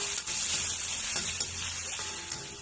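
Green chilli, onion and fenugreek sauté in a pan, giving a close, steady oily sizzle with brief stirring scrapes and no talk.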